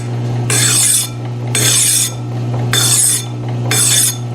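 A metal file rasps across a cast iron knob from a 13-inch South Bend lathe, four even strokes about a second long each, close and loud, with a steady low hum running underneath.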